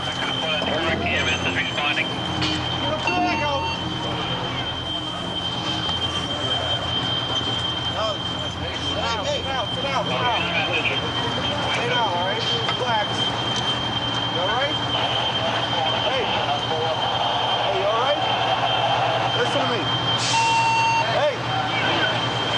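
Smoke alarms sound a high, steady tone continuously in a smoke-filled hall, beneath a clamor of voices and movement, with an engine-like rumble in the background.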